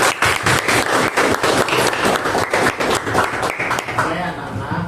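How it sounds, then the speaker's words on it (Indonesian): A class of vocational high school students applauds, a burst of quick, fairly loud claps in a classroom running several seconds before fading, with a voice speaking over the clapping. "tepuk tangan buat kita semua ya"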